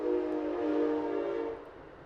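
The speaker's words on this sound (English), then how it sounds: "Got an Amtrak that goes through here about 10 times a day." An Amtrak passenger train passes by on nearby railroad tracks, its horn sounding as a sustained, fairly loud blast that fades away at the end.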